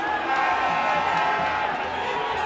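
A large crowd at a PDP presidential campaign rally in Yola, Adamawa, roars and cheers in a steady, dense wash of voices, loud and continuous throughout.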